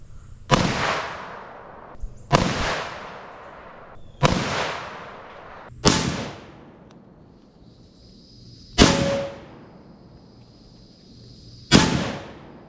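Six sharp, loud rifle shots from a modernized M1 Garand with a telescoping stock and optical sights, fired at the armored hatch of a Ferret scout car, spaced about two seconds apart with ringing decays and no talk.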